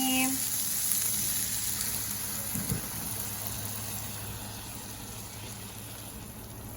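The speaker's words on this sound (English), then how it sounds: "let it simmer until the sauce kind of thickens up a little bit" Cream sauce with vegetables simmering in a pan: a soft, steady bubbling sizzle that runs throughout, quiet and close, with a brief faint knock partway through.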